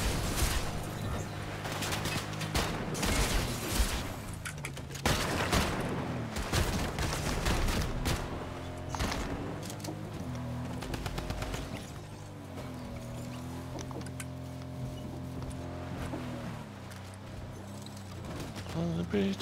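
Rapid video game gunfire, dense bursts of shots crowding the opening seconds and then thinning out, under steady talk and game music.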